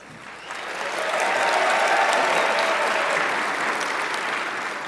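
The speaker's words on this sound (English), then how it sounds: "Applaud here." Applause from a political debate audience swells quickly into a loud, steady wash of clapping that holds for several seconds, with no voices on top.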